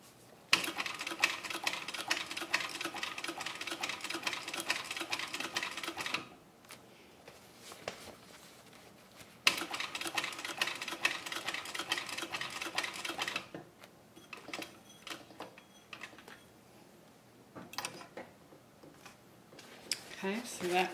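Techsew 2750 cylinder arm sewing machine stitching a tote bag, running in two long fast rattling bursts separated by a pause, with shorter stitching spurts near the end; close and steady, no talking.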